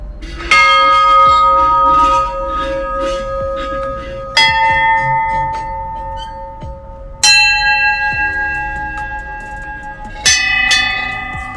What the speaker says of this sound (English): And you can check out all those bells.